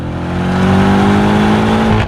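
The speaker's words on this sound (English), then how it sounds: "The thrust this car delivers is remarkable." A BMW F90 M5 Competition sedan pulls hard in second gear, its engine roaring loud and close with a steadily rising pitch for a couple of seconds, with no talk over it.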